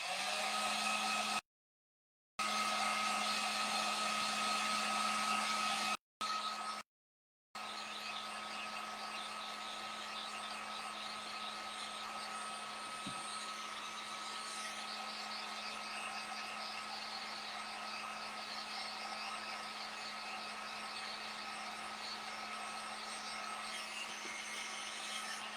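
A hair dryer runs on and off, drying chalk paste on heart-shaped pouches. It gives a steady whirring blow with a constant hum and switches off briefly a couple of times before running continuously.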